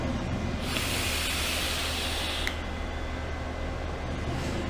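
Vape being drawn in a deep lung hit, heard as a steady, loud, breathy hiss that runs without a break for several seconds at close range, with no speech over it.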